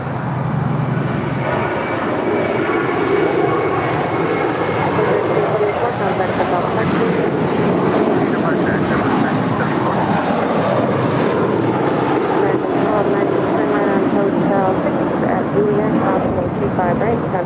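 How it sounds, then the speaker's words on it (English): A JetBlue Airways Airbus A321 at Los Angeles International Airport gives a steady, loud jet engine roar that holds without a break. "It's a JetBlue Airways A321 flight 1374."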